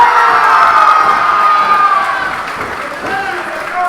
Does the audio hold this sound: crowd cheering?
yes